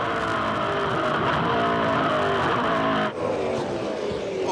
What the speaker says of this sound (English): It's interesting always to listen to the throttle work.